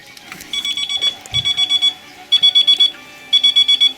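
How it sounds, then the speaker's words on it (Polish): An electronic alarm at a fishing lake gives four bursts of rapid high-pitched beeping, each a quick run of pulsed tones about a second long, close and clear with short gaps between. "Alarm."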